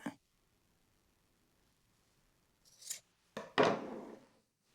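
Scissors snipping through jacket fabric during sewing, two or three short crisp cuts and rustles spaced apart amid quiet, close and soft.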